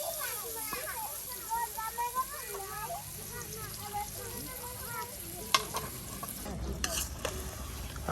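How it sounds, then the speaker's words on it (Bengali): Fish frying with spice paste in a pan while being stirred, a soft sizzle under repeated scraping stirs, with a voice talking over it and a few sharper clatters near the end. "আপনার মাছগুলো একবারে সুন্দর করে দেখুন মশলার সাথে মিক্সড করে দেওয়া হচ্ছে মশলাটা কষানোর জন্য"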